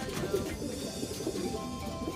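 Pigeons cooing softly in a loft where birds are kept, low murmuring coos repeating steadily over a faint background hum.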